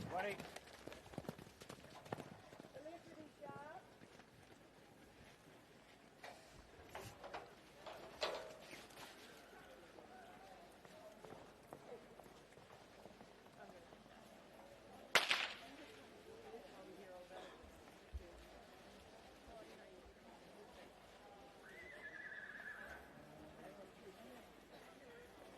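Hoofbeats of a horse galloping through a campdraft run at the Ringers Western Gold Buckle ladies' dash for cash qualifier, thudding under steady crowd murmur with a sharp bang midway.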